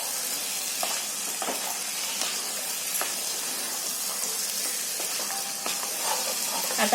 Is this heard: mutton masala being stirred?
yes